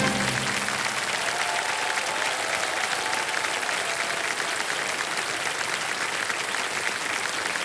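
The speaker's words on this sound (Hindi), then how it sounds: "तालियां बजती रहे।" A studio audience on the Hindi TV quiz show Kaun Banega Crorepati applauds in a dense, steady, continuous roar of clapping that runs through the whole stretch without a break.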